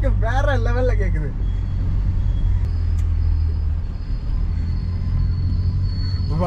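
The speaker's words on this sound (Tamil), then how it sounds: "அந்த பாப்ஸ் அண்ட் பேங்க்ஸோட தரமா இருக்கு" A tuned VW Polo GT TSI with a stage 2 engine and exhaust rumbles low and steady, with a burst of crackling pops near the start and a couple of sharp bangs later, while someone talks over it.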